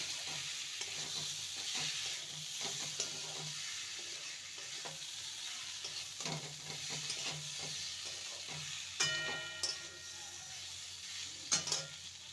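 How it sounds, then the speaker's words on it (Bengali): Potatoes and pointed gourd are stir-fried with spices, a low continuous sizzle with bursts of spatula scraping and knocks against the pan, close up with no voices. "ভালো মতন মশলার সাথে আলু আর পটলকে কষিয়ে নেব"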